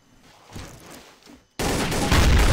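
Bursts of gunfire in the video game Trouble in Terrorist Town, quieter shots first, then a sudden loud sustained volley of rapid automatic fire after a brief pause.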